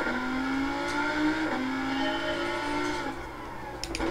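Lamborghini Huracán GT4 race car in Gran Turismo 7, its engine note climbing and shifting through gears as it accelerates, with a faint tire squeal near the end.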